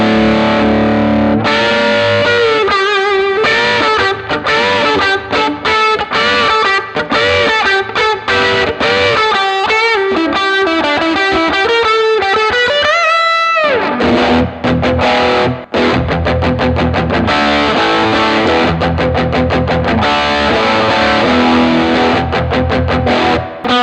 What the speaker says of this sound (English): I'm going to dial it in a little bit and see what kind of sort of rock tones I can get out of it.